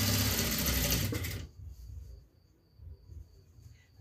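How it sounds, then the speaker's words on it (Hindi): A domestic sewing machine stitching piping onto a blouse runs in a steady fast whir for about a second and a half, then stops, leaving faint quiet handling noise. "अभी देखिए पूरी पाइपिंग को हम इसी प्रकार से सिलाई लगा लेंगे।"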